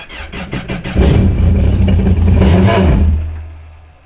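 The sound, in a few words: car engine starting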